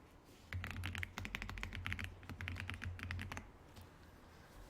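Rapid clicking of a computer keyboard during spreadsheet work in Excel, a quick close burst of keystrokes for about three seconds, then quiet.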